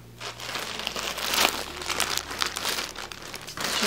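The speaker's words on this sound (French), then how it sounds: "Alors je vais déballer ça avec vous." A heavy parcel is unwrapped close up: plastic and paper packaging crinkles and rustles continuously, with bursts of louder crumpling throughout and no speech.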